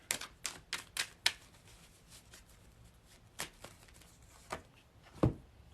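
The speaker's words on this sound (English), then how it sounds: "Whenever like half the deck falls out, that means they want to be shuffled this way." Tarot cards shuffled by hand in a quiet room: a quick run of crisp riffling snaps, a pause, then a few more scattered flicks and a final soft thud.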